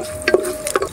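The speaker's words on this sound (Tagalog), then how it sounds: "Kapag mainit na yung mantika sa ating kaserola, maglagay lang tayo dito ng isang piraso ng sibuyas." Onion pieces sautéing in hot oil in a casserole, with a couple of soft sizzling bursts and stirring sounds over a steady low hum, heard up close.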